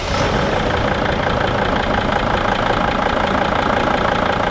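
A Dodge Sprinter van engine with a cylinder head gasket problem runs at a cold idle, a steady loud rumble with a faint knocking texture that stays even throughout, close by with no talking.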